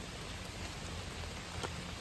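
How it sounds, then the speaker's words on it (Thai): Rain falls steadily outdoors in the countryside, a dense, even patter that stays constant throughout with no voices. "ฝนเริ่มไหมนี่"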